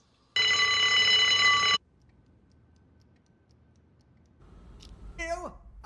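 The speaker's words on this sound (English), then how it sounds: "I didn't even know this hospital had an alarm system" A hospital alarm system gives one loud electronic ring with a harsh buzzing tone for about a second and a half, then cuts off abruptly, leaving quiet room noise before a voice speaks.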